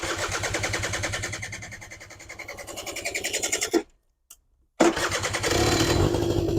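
A Suzuki LT80 quad engine runs with a steady, close, rapid putter, cuts out abruptly into about a second of silence with a brief blip, then fires back up and keeps running strongly.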